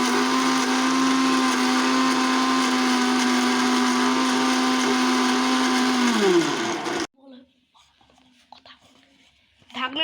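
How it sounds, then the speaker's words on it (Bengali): A blender grinds ginger, garlic and onion into a paste, a loud steady whine that slows and cuts off abruptly, followed by quiet handling noises. "এখন আদা রসুন পেঁয়াজ পেস্ট করা হচ্ছে।"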